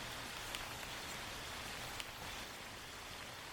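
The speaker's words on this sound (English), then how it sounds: "now I'm putting the rain and crickets in my sampler." Field recording of steady rain with crickets: a dense, even hiss of rainfall that holds at a constant level throughout, with a couple of brief drop-like ticks and no voices.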